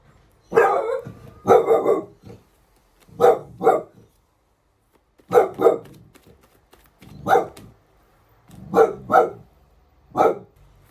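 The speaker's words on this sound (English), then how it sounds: "My dog is carrying on at somebody." A dog barks repeatedly at someone in bursts of two or three loud, close woofs separated by short pauses, with no talk over it.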